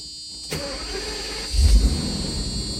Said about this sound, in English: I started this car already.